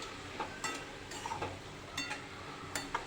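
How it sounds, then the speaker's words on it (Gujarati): Cabbage sambharo being stirred together with fresh coriander leaves in a pan, giving soft scraping and light clinks of a spoon against metal with a faint sizzle, quiet and close, no talking. "કોથમીરના પાન લઈને બરાબર મિક્સ કરી દઈશું"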